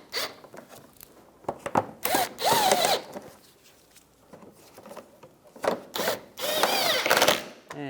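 Screws on fog light hole covers of a 2004-2009 Toyota Prius are driven in with a power tool, giving several short whirring bursts of uneven length with scraping and handling noises between them.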